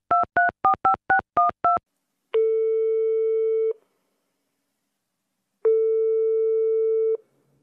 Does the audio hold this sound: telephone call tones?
yes